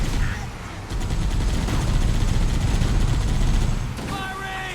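Rapid automatic gunfire in the Halo CE Anniversary video game, a sustained fusillade of overlapping shots that lasts several seconds, loud and close, before it tapers off at the end.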